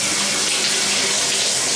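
A bathtub faucet turned all the way to high gushes at strong pressure, a loud, steady, close rush of water with no pauses.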